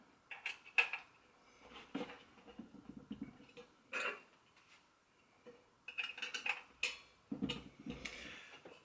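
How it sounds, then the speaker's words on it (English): A metal baking pan set on top of another pan and fastened with a binder clip makes clanks, scrapes and light metallic clinks, close and fairly loud, in irregular bursts with short pauses between. "I'm going to take a second pan, put it on top of the first. I'm going to secure it with a binder clip."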